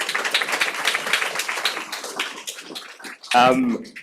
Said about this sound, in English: Let's give that group a round of applause, please